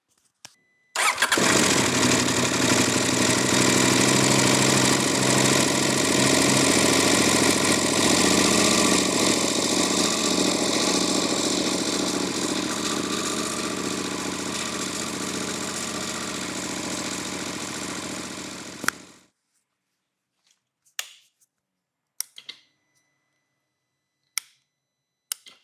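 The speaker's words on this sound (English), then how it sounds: "let's give it a crank and see what happens." A KTM 890 motorcycle engine cranks, catches and idles loudly and steadily up close for about eighteen seconds, then shuts off abruptly, leaving a few faint clicks and knocks in near silence.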